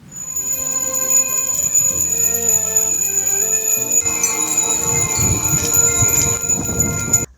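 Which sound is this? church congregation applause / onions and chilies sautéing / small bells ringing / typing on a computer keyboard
small bells ringing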